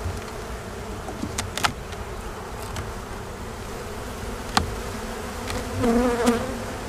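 Honey bees hum densely around an open, honey-heavy hive during a split, a close, continuous buzz with occasional individual bees passing louder near the mic.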